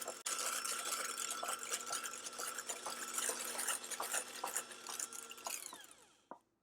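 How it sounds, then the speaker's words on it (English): An electric mixer whips cream to medium-stiff peaks for Dalgona coffee ice cream, giving a steady, close whirring hum with a rattling edge that runs for several seconds and then winds down and stops, with no voices. "I'm going to beat this until we're to medium to stiff peaks"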